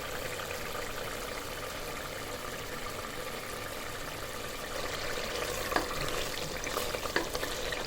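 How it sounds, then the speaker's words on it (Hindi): Masala spices and tomatoes fry in a pan for an arvi curry, giving a steady, even sizzle at moderate volume with no talking over it. "ये देखिए माशाल्लाह मसाला बहुत ही अच्छे से भुन चुका है।"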